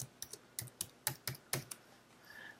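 Someone types a short word on a computer keyboard while adding text in Photoshop: about nine crisp, separate keystrokes in an uneven rhythm, close and fairly quiet, with no talking.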